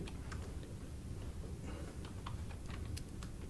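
Fingers type on a computer keyboard, giving faint, irregular clicks and taps over a steady low background hum.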